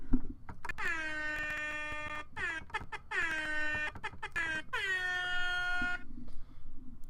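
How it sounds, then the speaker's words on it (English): A loud air horn sound effect blares in several long, sustained blasts separated by short gaps, the last one trailing off abruptly, played on a podcast. "I'm gonna do an air horn."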